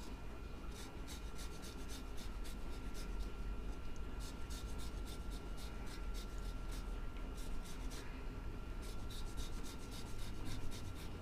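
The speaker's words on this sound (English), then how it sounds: "Alright, zest of 2 limes in there." Limes are zested on a grater close by, making a dry, rhythmic scraping in quick repeated strokes, quiet and steady with no talk.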